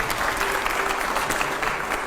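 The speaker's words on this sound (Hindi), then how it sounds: "जोरदार तालियां अगले सवाल के लिए" A crowd on a political question show breaks into loud, sustained applause, dense clapping filling the short moment.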